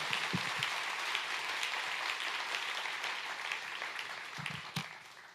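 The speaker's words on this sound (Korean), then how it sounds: "우리 하나님께 영광의 박수 올려드리도록 하겠습니다" A church audience gives a round of applause, steady clapping from many hands throughout, with a few louder claps near the start and the end.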